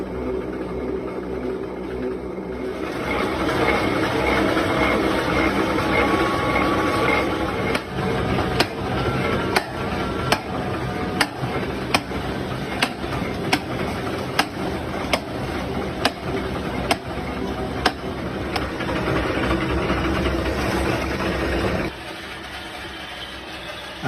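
A machine in a lime-making works runs with a loud, steady mechanical drone, overlaid by regular sharp clicks or ratcheting knocks for about twenty seconds before the noise drops off.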